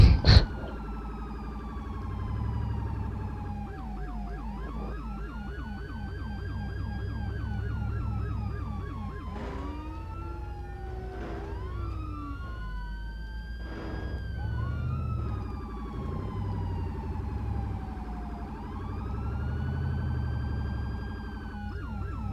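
Electronic ambulance siren wailing continuously in Arma 2, sweeping up and down in long cycles with overlapping tones, steady and fairly close, with no voices.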